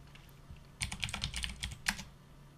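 Typing on a computer keyboard at a terminal, a quick burst of close, crisp key clicks in an irregular rhythm over a low steady hum, with no talking.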